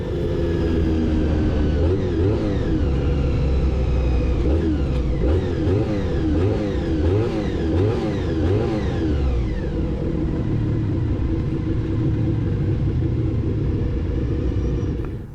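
Honda RVF400 motorcycle at a race start, its engine revving repeatedly between 8,000 and 9,000 RPM in rapid rising and falling bursts, then climbing as it launches off the line, loud and close throughout.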